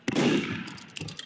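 Gunshot in the Roblox game Murder Mystery 2, a sharp loud crack with a brief ringing tail, followed by a few quieter clicks and taps, no voices.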